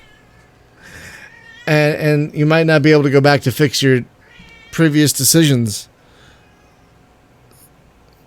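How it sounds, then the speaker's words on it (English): A pet cat meows in short, chatty calls, heard mostly between and beneath a person's close conversational talking. "I don't know if you can hear my cat, but she's very chatty right now."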